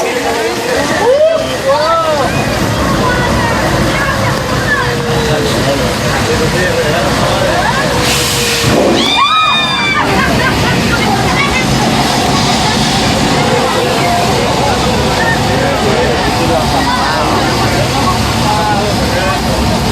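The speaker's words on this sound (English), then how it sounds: "That water is now going under the bridge, recycled into a tank at the top of the hill." Studio special-effect flood water at the Universal Studios Hollywood backlot rushes under a bridge as a steady, loud broadband roar, with voices and crowd babble underneath.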